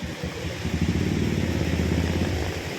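A motorcycle engine runs close by beside a flooded road, a steady low rumbling drone that holds for the whole stretch without pause.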